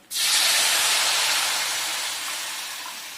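Milk poured into a hot pan of roasted rava (sooji) erupts in a loud, sudden sizzling hiss that holds steady and slowly fades over about three seconds, with no voices.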